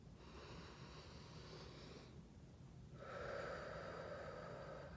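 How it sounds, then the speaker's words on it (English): Slow nasal inhalation during a guided low diaphragm breathing exercise, a steady airy rush that swells louder in its second half, close and alone with no talking. "In through the nose."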